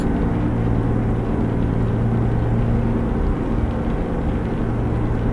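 An Ironwerx IW900 truck hauling a lowboy in American Truck Simulator drives along in the rain, its engine a loud, steady low drone with a constant tonal hum throughout.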